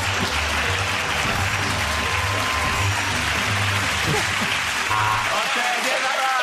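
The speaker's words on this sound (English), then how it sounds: "give that round of applause to James, Sarah and Andy" Studio audience of a British TV comedy panel show applauding steadily over low background music, the clapping fading out near the end.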